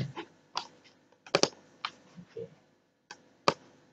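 Keys clicking on a computer keyboard while working in AutoCAD, a loose, uneven series of taps of varying strength with a couple of firmer presses, close and fairly quiet with no talking.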